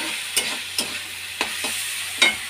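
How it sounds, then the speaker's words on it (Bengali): Bata fish curry with potato and onion frying in a pan, a steady soft sizzle broken by four sharp stirring scrapes spaced about a second apart, close and fairly quiet, with no talking. "এটা দেখো ভাজা হচ্ছে"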